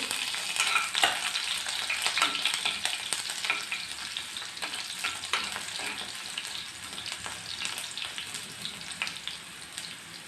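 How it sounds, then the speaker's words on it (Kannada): Mustard seeds and garlic fry in a pan for a vegetable palya, giving a steady, close sizzle with crackling pops throughout and no talk. "ಸಾಸಿವೆ ಸಿಗುತ್ತಿದೆ ಬೆಳ್ಳುಳ್ಳಿ ಹಾಕ್ತಾಯಿದ್ದೀನಿ"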